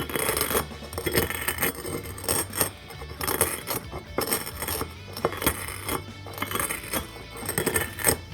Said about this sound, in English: Just using the bottom of a pint mason jar inside this other container. I'm just going to give it a rocking motion.